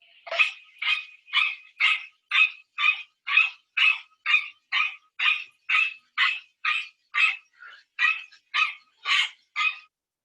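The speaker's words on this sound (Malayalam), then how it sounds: "ഈ പ്രസംഗിക്കാൻ വന്ന ആള് പട്ടിയെ കുരപ്പിച്ചതെന്ന് നിങ്ങൾ പറയല്ലേ" A dog barks again and again from a video being played, about nineteen sharp, evenly spaced barks over ten seconds, steady in loudness, with no talk over them.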